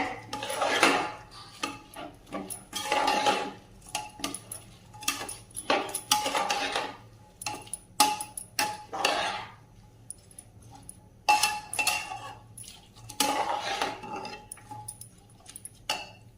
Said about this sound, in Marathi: तांदूळ चांगला परतून घेऊया